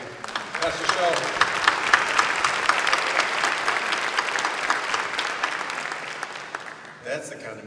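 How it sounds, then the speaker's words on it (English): An audience claps warmly for a pastor at a Juneteenth civil rights celebration in Louisville, dense sustained applause that fades out near the end, with some voices mixed in. "Round of applause to Pastor Shull."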